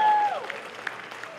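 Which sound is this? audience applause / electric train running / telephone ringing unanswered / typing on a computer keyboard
audience applause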